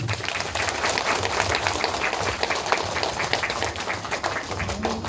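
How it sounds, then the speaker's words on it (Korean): Audience applause at a Parents' Day celebration for elders in Gwangmyeong, South Korea: dense, continuous clapping from a crowd, steady and fairly loud for the whole stretch. "박수 한번 부탁합니다."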